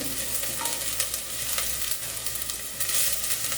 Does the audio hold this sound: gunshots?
no